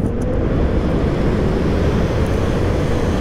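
A Fardriver-controlled electric motorcycle is ridden hard at high current, and a dense roar of wind rushing over the microphone dominates throughout, with the low drone of the ride steady and loud.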